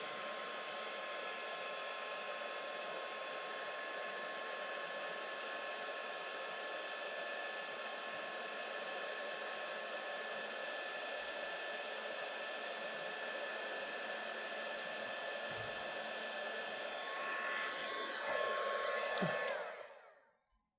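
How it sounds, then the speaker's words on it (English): A heat gun blows steadily for about eighteen seconds, a constant loud whooshing roar as it melts embossing powder for a faux enamel finish, then cuts off with a brief clatter near the end. "So turn your heat gun on and heat it"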